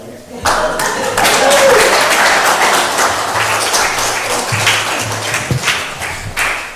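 A church congregation claps in a sustained burst of applause, with voices talking and calling out underneath.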